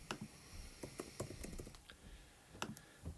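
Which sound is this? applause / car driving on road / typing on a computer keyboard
typing on a computer keyboard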